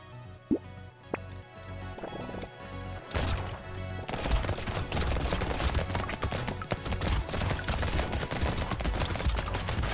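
Rapid gunfire in the video game Brotato, a few scattered shots opening into a dense, continuous stream of overlapping firing and impacts that fills the second half, with no talking.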